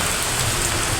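Steady rain pouring down outside a home in a village setting, a dense even hiss that stays loud and unbroken throughout, with no voices over it.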